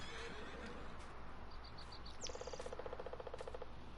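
Horses whinny in Farming Simulator 2019, a short high neigh rising over a steady hiss of crickets and insects in a quiet farm setting, fairly distant and soft.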